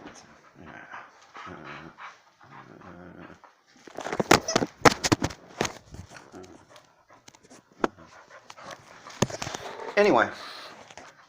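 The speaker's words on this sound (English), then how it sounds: "My dog's going crazy." An excited dog pants and whimpers close by in bursts, mixed with sharp yelps, while a person talks over it.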